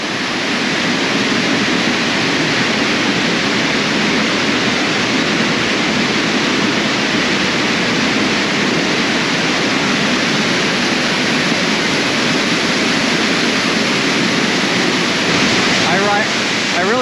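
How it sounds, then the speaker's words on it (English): Middle North Falls on Oregon's Trail of Ten Waterfalls pours as a wide curtain, a loud, steady, close-up roar of falling water that fills everything without a break. "This one is called Middle North Falls."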